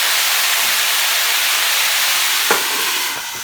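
Water splashed into a hot pan of sautéed potatoes gives a loud, steady hiss of steam and sizzle, with a brief sharper spurt near the end before it softens slightly.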